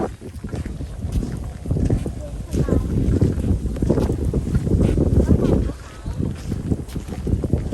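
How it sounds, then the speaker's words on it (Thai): Steady wind buffeting the microphone outdoors in Thailand, with low rumbling gusts throughout and a person talking at times. "ลม"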